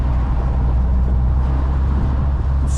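A 1977 VW Bus drives along with a loud, steady low engine drone and road rumble that runs continuously, with no clear gear-change breaks standing out.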